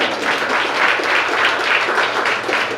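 A church congregation applauding together, a loud, dense, continuous clapping that fills the space without pause.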